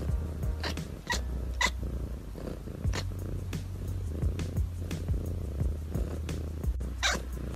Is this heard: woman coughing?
no